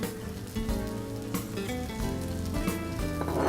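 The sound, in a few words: seasoned shrimp sizzling in a hot pan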